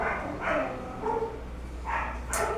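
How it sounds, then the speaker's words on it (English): Several dogs bark in a few short bursts spaced across the moment, moderately near, over a low steady background hum with no talking. "My dogs are barking right now."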